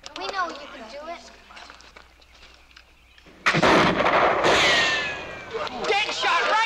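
A rifle shot fired at a shooting target during a turkey-shoot contest at an outdoor festival, a sudden loud crack about midway that rings on amid crowd voices and talking.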